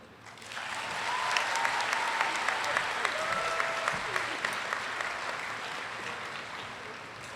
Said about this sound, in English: Another round of applause for these two remarkable young ladies